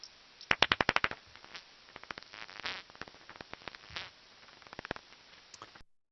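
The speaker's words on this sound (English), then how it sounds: "those clicks and buzzes get really close together and form a feeding buzz like this" Feeding buzz of a New Zealand pekapeka bat through a bat detector: rapid trains of sharp clicks that speed up and merge into dense buzzing bursts, loud and close, with no voices.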